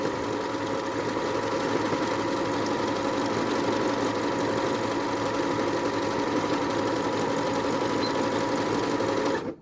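A Janome sewing machine stitches a decorative pattern, running as a steady, close mechanical whirr and rapid needle chatter for nearly ten seconds before stopping abruptly, with no voices.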